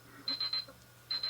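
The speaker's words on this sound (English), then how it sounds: "Oh, there goes the timer." A Divoom Ditoo pixel-art Bluetooth speaker sounds its timer alarm as a high electronic beeping in two groups, three quick beeps then a pause and two more, fairly quiet over a steady low hum.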